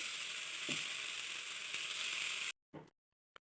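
Bottle gourd leaves dropped into a hot pan after fried beans, a steady close frying hiss that cuts off abruptly, followed by a couple of brief knocks.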